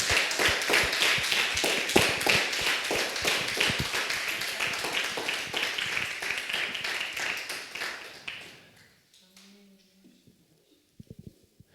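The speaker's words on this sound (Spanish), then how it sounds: "Si va a aplaudir, hágalo fuerte." A church congregation claps loudly and steadily for about eight seconds, then the clapping dies away into near silence broken by a few faint taps.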